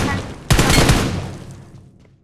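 Gunfire in the mobile battle royale game BGMI, a sudden loud burst of rapid shots that rings out and slowly fades over about two seconds.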